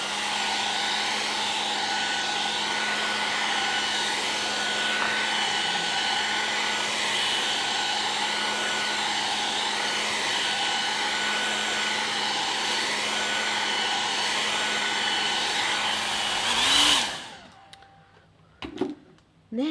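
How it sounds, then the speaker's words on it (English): A hair dryer blows alcohol inks across Yupo paper, a loud steady whirring drone with a constant hum that runs unbroken, then winds down abruptly near the end, leaving faint clicks. "I'm just going to use my hairdryer again to give them a little push around."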